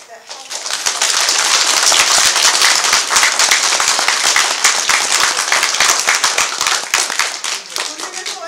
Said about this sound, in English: Let's clap for all the heroes that helped.